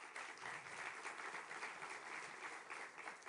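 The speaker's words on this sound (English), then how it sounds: "Je vous propose qu'on les applaudisse une nouvelle fois." An audience at an international conference on a Middle East two-state solution in France applauds steadily, a dense, even wash of clapping from many hands that holds for the whole stretch without any talking.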